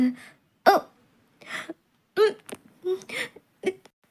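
Repeated hiccups from a person, about seven sharp, separate catches spaced irregularly across the moment, close and fairly quiet against silence.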